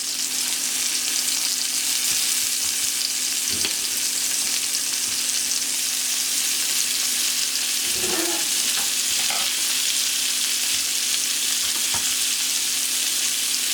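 Food sizzling steadily in a hot pan while a Philly cheesesteak is cooked, a constant hissing fry with a few soft clunks and stirring knocks, no voices.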